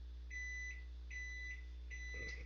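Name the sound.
appliance beeping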